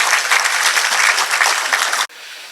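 Sustained, dense audience applause at a Catholic pilgrimage event on Katchatheevu island, Sri Lanka, steady and loud for about two seconds before cutting off abruptly.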